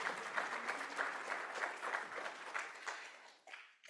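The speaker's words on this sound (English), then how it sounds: "please clap. Clap for everybody." An audience at an artist talk breaks into sustained applause, many hands clapping in a dense, steady wash that fades toward the end.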